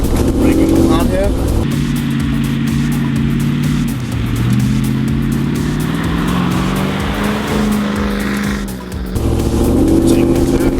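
Land Rover Defender V8 driven hard through turns, its engine loud and close with droning pitch that rises and falls as it brakes and accelerates, while a person talks over it.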